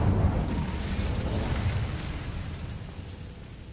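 Incendio fire spell cast in Hogwarts Legacy, a loud roaring burst of flame with heavy low rumble that slowly fades over a few seconds, with no talking.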